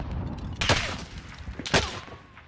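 Gunshots in Call of Duty on Rebirth Island, two sharp loud reports about a second apart over a noisy game background.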